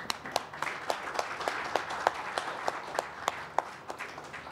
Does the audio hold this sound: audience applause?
yes